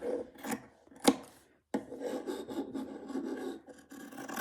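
Excess fabric being trimmed off a slow-stitch piece with orphan blocks, a few close rasping cuts and rubbing swishes separated by a brief pause, with no talking.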